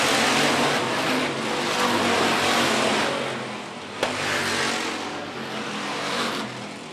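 Hobby stock race cars roar around the dirt oval at Phillips County Raceway, a loud, continuous wall of engine noise that swells and dips as the pack passes, with a brief sharp knock midway.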